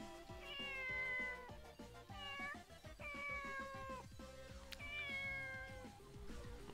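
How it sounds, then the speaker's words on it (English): A cat meows repeatedly in the video game Tokyo Mirage Sessions, a string of drawn-out, wavering calls over background game music, close and clear with no talking. "Alright, Mr. Kitty's got a lot to say"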